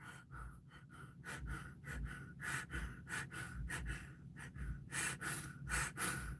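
Heavy, rapid breathing fills a car during a panic attack, with repeated loud gasping inhales and exhales in an uneven rhythm, close and alone with no speech.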